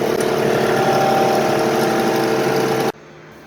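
Drum sander with a shop vac for dust collection, set inside a quiet box, running steadily and loud with a constant motor drone and broadband whir, then cutting off abruptly near the end.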